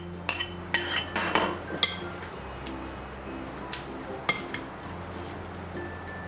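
Beef being mixed by hand with spices, ginger garlic paste, green chilli, curry leaves, coconut and onion, with scattered clinks of a utensil against a metal bowl over a steady low hum; no talk.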